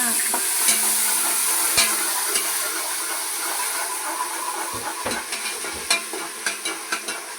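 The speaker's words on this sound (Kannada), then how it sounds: "ಇವರು ಒಗ್ಗರಣೆಗೆ ಹಾಕ್ತಾವ್ರೆ ಮಟನ್ನ." Mutton sizzling in hot tempering oil, a steady crackling hiss close by, with a few sharp clinks of stirring near the end.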